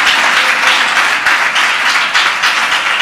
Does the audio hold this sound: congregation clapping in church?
yes